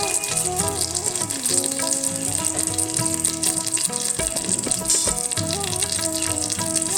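Green chillies, bay leaf and five-spice seeds frying in mustard oil in a pan for Bengali arhar dal, a steady loud sizzle and crackle running throughout, close and continuous with no talk.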